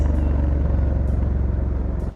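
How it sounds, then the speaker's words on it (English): A Ducati Scrambler 1100 Dark Pro motorcycle's exhaust rumbles steadily up close, a deep, continuous throbbing engine note that holds loud and even throughout, with no voices. "All that exhaust sound is accompanied by a torquey, meaty power delivery."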